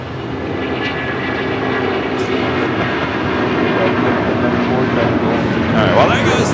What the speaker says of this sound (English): there goes the Air Canada A330